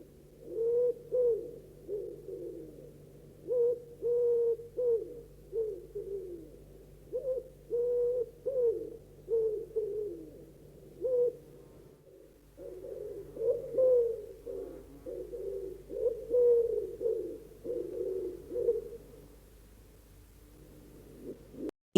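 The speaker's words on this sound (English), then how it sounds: "Owl," An owl hooting in repeated soft calls, a series of short hollow hoots arriving in regular bursts with brief pauses between them, clear and fairly close against a quiet background.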